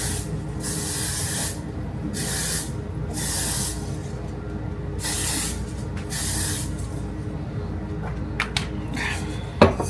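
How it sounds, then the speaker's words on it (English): Several short bursts of Amika anti-humidity hair spray hissing in a regular rhythm, close by, followed by faint handling clicks. "I am gonna spray this on my hair, the Amika anti-humidity spray"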